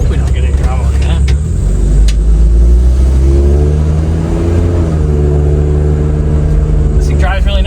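A flooded junk Volvo 240 wagon driving, its engine droning loudly with rising and falling revs and steady road rumble, heard from inside the car.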